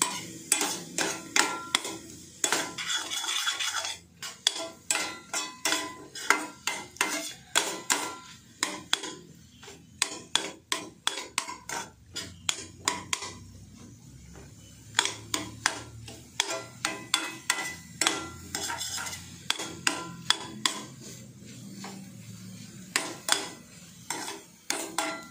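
Egg and drumstick flowers are fried and stirred in a pan, a spatula knocking and scraping against it in quick, irregular clatters, close and fairly loud, over a faint low background.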